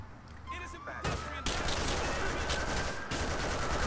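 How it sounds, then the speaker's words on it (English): A busy exchange of gunfire in GTA 4 with the LCPDFR police mod during a shootout where an officer is hit, with dense overlapping shots and bursts that grow louder after the first second. "we have police officer getting shot"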